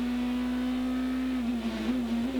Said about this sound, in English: let's just listen to that V8 BMW engine as he comes into the right-hander before going down through Hurry Downs